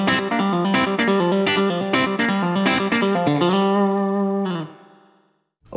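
Full-speed electric guitar lick played with hybrid picking, a quick flurry of effected, slightly distorted notes that ends on a ringing held note, then fades to silence.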